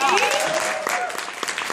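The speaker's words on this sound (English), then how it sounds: "How about a huge round of applause for our hostess, Katie?" Guests at a home party applaud their hostess, a short round of lively clapping from a small group with excited voices and cheers mixed in.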